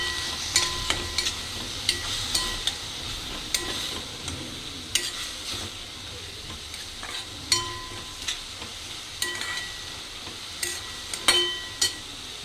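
Radish leaves and fenugreek leaves, seasoned with salt and sugar, are stirred in a hot pan, a soft sizzle under regular spoon scrapes and taps recurring every second or so.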